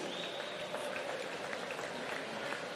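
Steady applause from a crowd at a swimming championship finals session, a dense wash of clapping that holds at an even level from start to finish.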